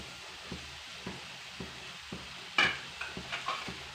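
Grated coconut and jaggery get stirred together in a pan, producing faint, regular scraping strokes about every half second with a soft sizzling hiss underneath and one sharper clatter partway through.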